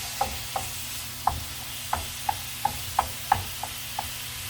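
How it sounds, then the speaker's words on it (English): A spoon stirs two cans of chili beans with seasoning in a pot inside a cargo trailer RV kitchen, giving about ten soft, evenly spaced clinks and scrapes. Nobody speaks. "I'm just stirring up my 2 cans of chili beans, and my seasoning"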